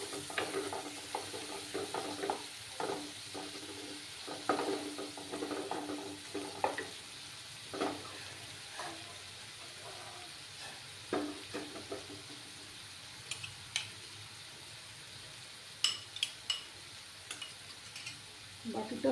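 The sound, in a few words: masala with turmeric being sautéed in a pan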